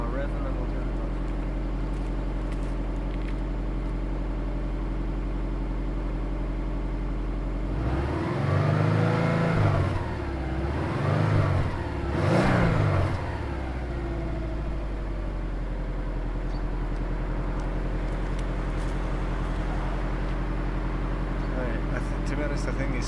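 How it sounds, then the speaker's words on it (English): A Subaru Forester XT SG9 idles with a new exhaust fitted, then the engine is revved three times in quick succession, each rise swelling over the steady low idle before it settles again. "I'll give it one more rev and then we'll turn it off."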